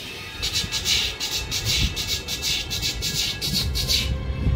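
A voice imitates train wheels running over rails: a steady, rapid run of hissing, clacking bursts in an even rhythm, close and fairly loud.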